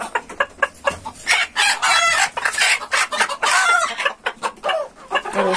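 Hens and a rooster on a village poultry farm give repeated loud, close clucks and crowing calls in uneven bursts, with short gaps between.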